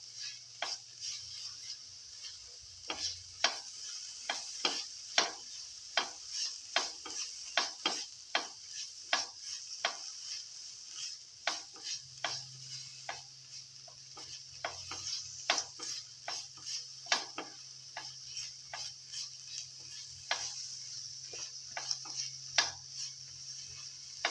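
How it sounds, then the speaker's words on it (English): A spatula scrapes and taps through a pan of chicken pilaf with green chili and tomato as it sautés, making a long run of sharp, regular strokes over a soft, continuous sizzle. "Keep on sauteing."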